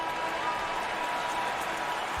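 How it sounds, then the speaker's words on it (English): Fans at a Sixers basketball game applaud in a steady, dense wash of clapping that fills the whole stretch at even volume, with faint voices mixed in. "Fans, have a big round of applause for your Sixers youth."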